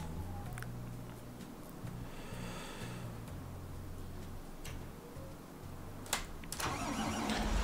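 Tractor engine in Farming Simulator 19 cranks and settles into a low, steady idle, with a few sharp clicks and a brief rise in noise near the end.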